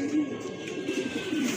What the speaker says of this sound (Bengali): আরেক জোড়া কবুতর